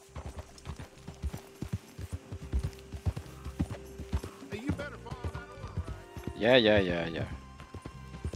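A horse in Red Dead Redemption 2 trots with steady clip-clopping hooves, a brisk even rhythm of hoof strikes throughout, ending in a loud neigh near the close, while a person talks over it.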